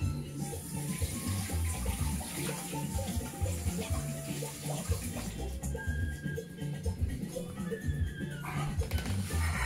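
A pot of ugali, Kenyan maize porridge, bubbling as it cooks, giving a steady dense gurgle and pop of thick boiling mush that runs unbroken throughout, close and moderately loud with no talking.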